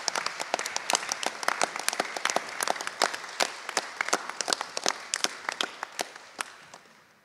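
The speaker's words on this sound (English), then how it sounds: "So please give me a round of applause to Nawadon Muhammad Hajashkir" Audience applause at an award ceremony, a dense run of crisp claps that stays steady for several seconds and thins out toward the end, with no talking.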